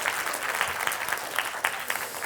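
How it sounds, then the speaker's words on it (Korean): A lecture audience at a special talk by a criminal profiler applauds one another, a brief, dense burst of many hands clapping at steady volume with no clear voices. "여러분 모두 서로에게 박수 쳐주세요"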